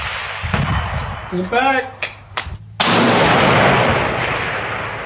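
Loud gunshots at an outdoor shooting range, with a sharp crack near 3 seconds followed by a sustained loud wash, while people talk and call out instructions around the shots.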